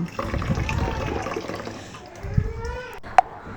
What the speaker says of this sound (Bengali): সাবুদানাগুলোকে খুব সুন্দর করে ধুয়ে নিচ্ছি